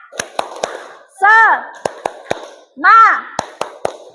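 A classroom clap routine: close, crisp claps come in three sets of three, with loud sung-out chanting between the sets.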